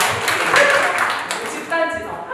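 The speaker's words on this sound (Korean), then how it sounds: "박수 부탁드립니다" An audience claps at a lecture on forests and the climate crisis, a dense wash of applause mixed with people talking over it throughout.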